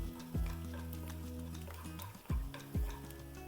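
Onion and green chili sautéing in a pan, with three sharp knocks of a utensil against the pan over a faint, steady background hiss.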